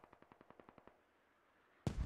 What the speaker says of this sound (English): They're really good with these mortars.